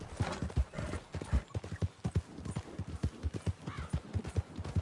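Horse hooves gallop in steady, rhythmic clip-clop beats in the video game Red Dead Online, close and prominent, with a brief whinny-like sound partway through.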